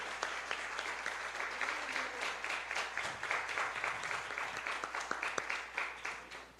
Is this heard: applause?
yes